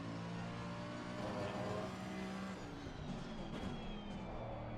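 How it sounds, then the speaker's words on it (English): Porsche GT3 race car engine in the racing game ACC, a steady loud drone that rises and falls in pitch as it revs, with no voices over it. "I love the sound of the Porsche."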